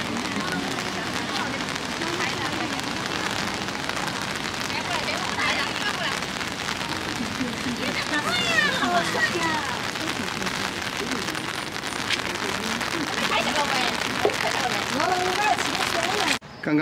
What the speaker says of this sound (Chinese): 就突然下雨了。